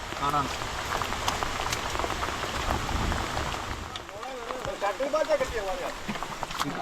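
Steady rain pours down in a continuous wash, with voices talking over it near the end.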